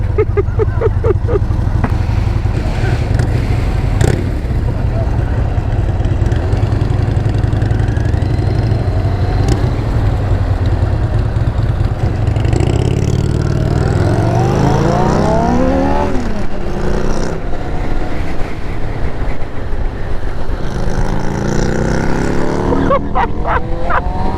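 Kawasaki ZX6R Ninja motorcycle at a large South Cornwall bike meet, its engine droning loudly and steadily before revving up and down in rising and falling sweeps near the end.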